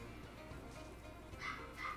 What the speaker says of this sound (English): Sorry if you hear the little puppy barking in the background.